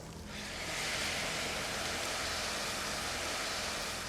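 Wine hits toasted risotto rice in a hot pan for seafood risotto, giving a steady, broad hiss and sizzle that swells in and holds evenly, close and moderately soft, with no voices.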